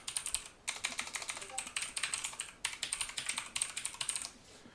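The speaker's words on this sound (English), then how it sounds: "type in your email" An email address being typed on a computer keyboard produces close, crisp, rapid key clicks in several bursts with brief pauses between them.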